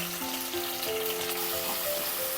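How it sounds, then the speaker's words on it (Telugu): Ginger garlic paste and turmeric fry in a pan with a steady, close sizzle that runs throughout, broken by faint stirring scrapes, with no voices. "అల్లం వెల్లుల్లి పేస్ట్ మనకు పచ్చివాసన పోయేంత వరకు ఇలా కలుపుకుందామండి"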